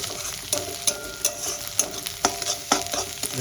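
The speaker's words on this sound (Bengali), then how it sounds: "সুন্দর করে ভেজে নেবো পেঁয়াজটা দেখো আমি আস্তে আস্তে সাদামি করে ভেজে নিই" Chopped onion frying gently over low to medium heat in a pan, giving a soft steady sizzle broken by regular stirring scrapes roughly every half second.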